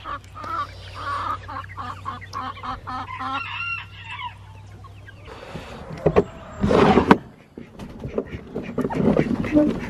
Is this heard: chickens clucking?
yes